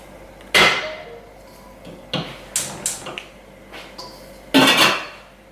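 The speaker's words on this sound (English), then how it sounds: "I'm gonna go get a strainer." A strainer basket fetched in a home kitchen, with a few loud metallic clanks and clatters of cookware and utensils spaced out among softer knocks and rattles, close by.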